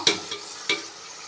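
Two big, finely chopped tomatoes tumble into a pan of sautéing onion and garlic for a green pea kurma, giving a couple of sharp, brief clattering scrapes over a soft, steady sizzle.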